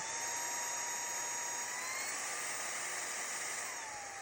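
A Powerffy cordless stick vacuum cleaner runs continuously with a steady high-pitched motor whine and airy rushing hiss, close and constant throughout, no talking.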